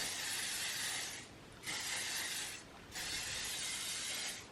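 Living Proof Flex hairspray hisses from an aerosol can in two long, close sprays, a fine misting broken by a short pause between them.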